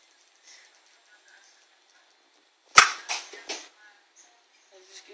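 A homemade elastic-powered catapult fires with one sharp snap, and a short clatter of the launched shot follows, heard close in an otherwise quiet space.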